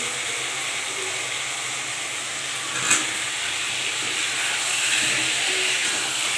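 Potatoes for dum aloo go into hot oil, giving a broad, continuous hissing sizzle with a short sharp burst partway through.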